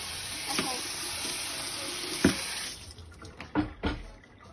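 Running tap water rinses cut vegetables in a sink, a steady hiss that stops partway through, followed by a few nearby clunks and splashes.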